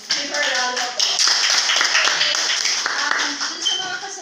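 Applause from an audience at a hotel sales presentation, a dense wash of many hands clapping that holds steady and fairly loud throughout, with a voice briefly audible over it.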